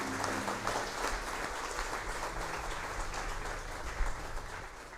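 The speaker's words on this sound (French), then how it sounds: "Acclamons très fort pour notre Dieu" Church congregation applauding and cheering loudly in praise of God during a worship celebration, with steady dense clapping and a raised crowd throughout and a brief louder burst near the end.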